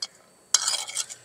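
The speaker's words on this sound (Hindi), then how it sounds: "इसमें हम डालेंगे चाट मसाला। इसको मिक्स कर लेंगे।" A spoon stirs chaat masala into chana chaat in a bowl, a single brief scraping, clinking burst of metal on dish after a quiet pause.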